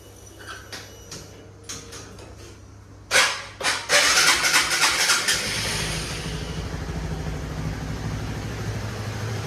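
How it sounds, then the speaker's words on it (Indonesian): A Honda K56 motorcycle engine cranks and catches after a few clicks, then settles into a steady, close idle that runs on alone. "Ini contohnya kita nyalain mesin motornya aja dulu ya"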